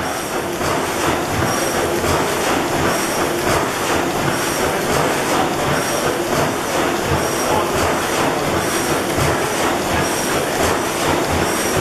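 A 600 hp Snow Worthington reciprocating natural gas engine in northwestern Pennsylvania runs with a loud, steady, even drone that fills the whole stretch, with no talking over it.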